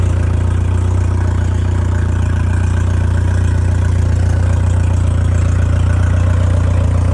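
A Yamaha VMAX outboard motor idling at initial start-up, a steady, even low engine hum running unchanged throughout, with no voices.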